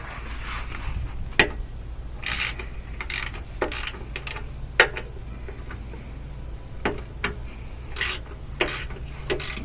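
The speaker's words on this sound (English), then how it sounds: "A 13mm socket on there, and just loosen these up" A hand ratchet with a 13mm socket loosens ground bolts on a GMC truck, giving quick bursts of light clicking and metallic ticking, close and fairly quiet, with no talking.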